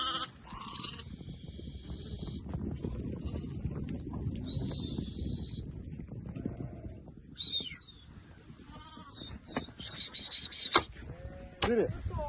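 Sheep bleat on a village farm in rural Turkey, several short calls at varying distances over a busy bed of livestock and outdoor noise, with some human voices mixed in.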